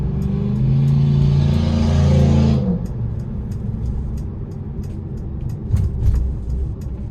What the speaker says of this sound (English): Now we are going to give it a pull getting on the interstate here.